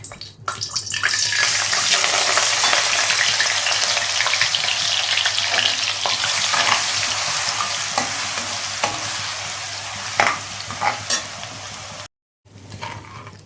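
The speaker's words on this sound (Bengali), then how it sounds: "এটা এর মধ্যে ভেজে নেব জল ঝরিয়ে নিই শুকনো শুকনো করে ভেজে নেব" Potatoes frying in hot oil, a steady loud sizzle with occasional stirring scrapes, then a brief silence near the end.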